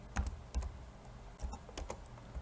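Typing Arduino code on a computer keyboard, with a few scattered clusters of crisp keystrokes separated by short pauses, close up and moderately quiet with no voices.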